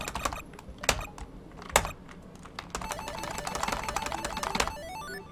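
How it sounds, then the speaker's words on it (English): Rapid clattering keystrokes on a computer keyboard while playing the text-based game SanctuaryRPG, with sharp isolated hard presses at first, then a dense flurry of quick typing, close and loud. "Get ready to hear a lot of me slamming my keyboard during this game."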